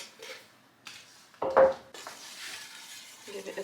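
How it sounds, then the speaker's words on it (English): A spoon scrapes and clinks against a pot as food is mixed on an Aga stove, with a brief louder clatter in the middle and soft rubbing stirs before and after. "Give it a good mix."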